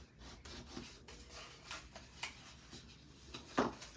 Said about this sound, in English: So now I'm going to fold and burnish